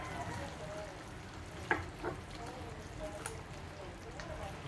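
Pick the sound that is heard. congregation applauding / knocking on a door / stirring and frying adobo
stirring and frying adobo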